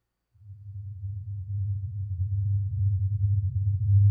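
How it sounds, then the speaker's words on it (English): A mysterious low-frequency hum fades in and then holds steady as a deep, continuous drone that slowly grows louder, with no other sounds around it. "the most commonly reported noise is a low-frequency hum that persists in the area"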